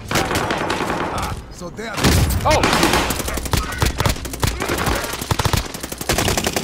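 Rapid automatic gunfire and explosions fill a video game shootout, loud bursts rattling continuously with a heavy blast near the two-second mark, while a player's voice talks over the action.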